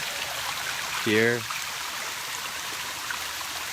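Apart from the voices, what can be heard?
waterfall and river water flowing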